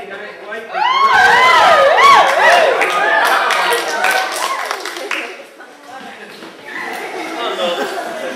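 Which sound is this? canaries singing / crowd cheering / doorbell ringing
crowd cheering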